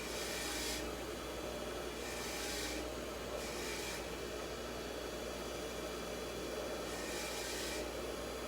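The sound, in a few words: cleaning bolt threads on Norton Commando parts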